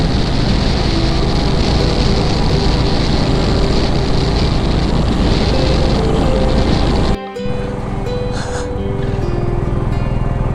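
Motorcycle riding along a long, straight, smooth road between Zoji La Pass and Drass in Ladakh, a steady loud engine drone with heavy wind rush that dips briefly near the end before continuing.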